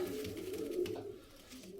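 Pigeons coo softly nearby, low throaty rolling calls repeating in a quiet space; male and female show pigeons.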